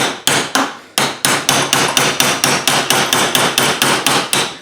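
A hammer drives a punch against the lip of a bushing on an Acura RSX. About seventeen loud metallic strikes come in a steady, evenly spaced rhythm, close up and with no talk.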